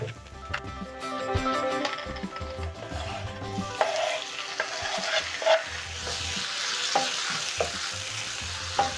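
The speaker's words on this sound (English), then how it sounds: "Using your spatula, you're going to stir in the tomatoes into the onions." Tomatoes being stirred into soft golden-brown frying onions with a spatula for Zambian kapenta, a continuous sizzle broken by frequent scraping strokes and light clinks against the pan.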